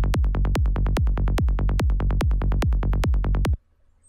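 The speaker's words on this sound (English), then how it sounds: "So that's the kick and bass." A psytrance kick and bass pattern from Ableton Live runs through a mastering chain, with loud, punchy kicks hitting at a fast, steady pulse and rolling bass between them for about three and a half seconds before stopping abruptly.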